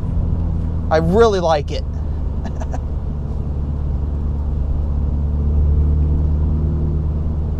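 A Mini John Cooper Works GP3 hardtop's engine and exhaust give a steady low rumble throughout, with a brief spoken remark near the start.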